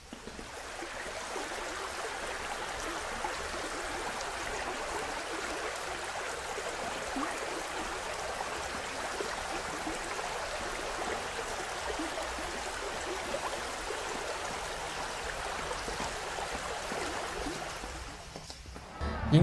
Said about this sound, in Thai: สะพานเอโดะพาดข้ามสายแม่น้ำที่ไหลไปตามลำธารเล็กๆนะครับและไม่มีโขดหินใหญ่เราจึงได้ยินเสียงน้ำเอื่อยๆเบาๆนะครับ